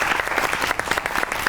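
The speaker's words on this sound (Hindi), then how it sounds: "ताली बजाइए उनके लिए।" Studio audience clapping for a guest on a Pakistani comedy talk show, a brisk, dense burst of many hands with quick individual claps audible through the mass, loud and close for under two seconds.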